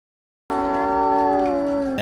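Dog howling outdoors at night, one long sustained wavering howl that starts abruptly after a moment of silence and holds steady, moderately loud and alone.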